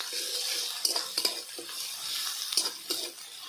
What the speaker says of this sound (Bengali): রসুনটা ভেজে নেব